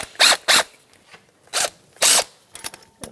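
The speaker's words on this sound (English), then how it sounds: "with a long extension, I'm going to get a 13mm socket on these two retaining bolts right here and take them out." A 13mm socket on a long extension backs out retaining bolts during front CV axle work on a 2008-2013 Nissan Rogue, producing several short, loud, close ratcheting bursts separated by pauses.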